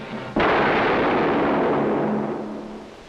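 A single gunshot rings out in a 1962 drama film, a sudden loud crack after a brief quiet moment, followed by a long rumbling echo that slowly fades over several seconds.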